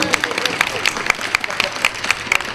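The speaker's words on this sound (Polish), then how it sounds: "Brawa, witamy serdecznie." Audience applause welcoming guest groups at an arts festival, a steady wash of many hands clapping with sharp individual claps standing out, moderately loud and continuous throughout.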